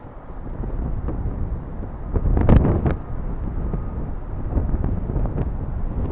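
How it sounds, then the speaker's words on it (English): Heavy wind buffets the microphone near the Golden Gate, a steady low roaring rumble with a louder gust in the middle and no voices. "so it's getting quite windy now"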